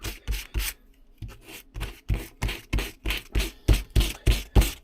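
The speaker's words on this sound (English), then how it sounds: "now we're just going to rough up the surfaces a tickle. It does say 80 grit, but I've not got 80 grit. I've got 240 grit." Rough scraping strokes of 240 grit sandpaper roughing up a surface for a dinghy depth sounder build, a quick steady back-and-forth rhythm of about a dozen close strokes after a short pause.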